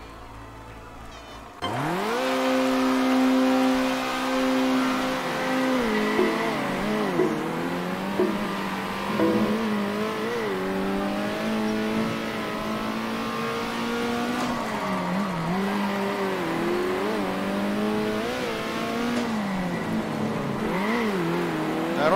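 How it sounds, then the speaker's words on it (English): A winged Formula 1 car races in the video game Circuit Superstars, its engine snapping on abruptly and then whining loudly and steadily, pitch rising and dipping through gear changes and corners for the whole stretch. "Let's do the wing Formula 1 car."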